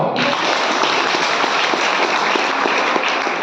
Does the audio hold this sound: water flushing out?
no